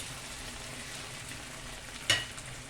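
Peppers and tomatoes cooking in a pan, a soft continuous sizzle with one sharper clink or stir near the end, with no talking.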